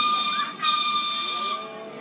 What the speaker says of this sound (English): you're going to hear two loud whistles